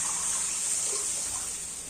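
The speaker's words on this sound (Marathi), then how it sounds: "आता आपण ही ताक फोडणीत टाकून घेऊया" Buttermilk pours into a hot tempering for kadhi, a brief steady gushing, liquid rush heard up close for about two seconds with no voices.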